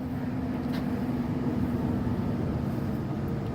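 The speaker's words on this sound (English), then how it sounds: "You can hear the wonderful furnace running right now." A low, constant mechanical hum with a steady drone, like a furnace running, fills the space without pause.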